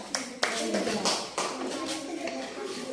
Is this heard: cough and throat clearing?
no